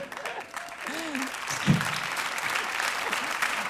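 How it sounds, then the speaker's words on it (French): Audience applause at a Paris stand-up comedy show, continuous clapping from a large crowd throughout, with a voice or two cutting in briefly over it. "Merci pour cet applaudissement."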